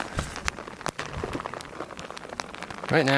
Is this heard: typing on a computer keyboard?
no